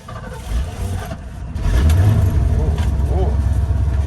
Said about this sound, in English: Starting up the old truck.